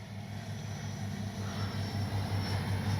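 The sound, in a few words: FMS Avanti S 70mm RC jet flying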